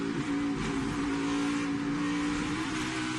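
NASCAR stock car racing at Watkins Glen, heard from onboard as it comes off a high-speed straight, brakes and downshifts; a loud, continuous engine drone that holds steady throughout with no talk.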